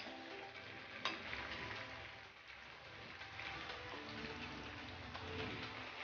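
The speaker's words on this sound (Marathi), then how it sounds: "बटर वितळलेलं आहे, ह्याच्यावर आता एक कांदा घालून घ्यायचा आहे।" Chopped onion sizzles in melted butter on a hot tawa for an egg masala, a soft continuous frying crackle with a faint clink or stir near the start, no talking.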